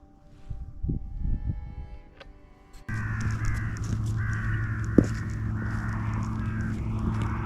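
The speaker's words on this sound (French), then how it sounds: "On entend les corbeaux" Crows caw repeatedly outdoors in a Basque mountain pass, harsh calls rising over a steady background hum, one sharper caw standing out midway.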